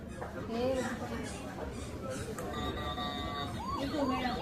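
A wavering siren-like wail rises and falls amid busy chatter, sounding like a voice imitating a siren.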